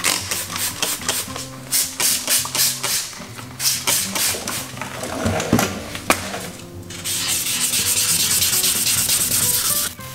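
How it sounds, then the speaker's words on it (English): Close, loud wet sanding of a car headlight on a 2005 Mazdaspeed Miata with 400 grit sandpaper: rapid rhythmic back-and-forth rubbing strokes, then a steadier continuous scrubbing hiss toward the end, with no voices. "Remember, wet sand."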